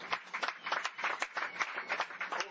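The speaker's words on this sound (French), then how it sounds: "Applaudissements s'il vous plaît pour Jean de Macoun" A crowd at an Olympique Lyonnais football stadium claps steadily, a dense, even patter of many hands with no break over a few seconds.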